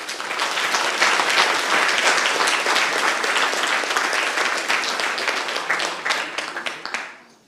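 A keynote audience at a neuroscience talk breaks into dense, steady applause that swells briefly and then fades out at the end.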